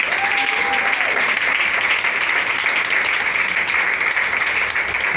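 A church congregation clapping during a deliverance service: dense, sustained applause from many hands, steady and loud throughout without a break.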